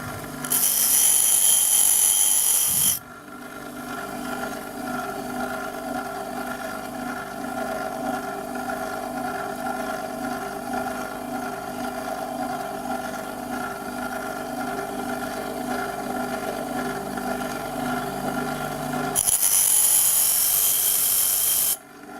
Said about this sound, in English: I do this sharpening on the same grinding wheel